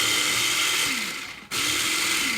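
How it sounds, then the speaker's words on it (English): Miniature food processor pulsing celery for chicken salad, a loud steady motor whir that winds down, cuts out for an instant, then starts up again at full speed. "I'm just going to put it in my little miniature food processor. And I'm just going to pulse it"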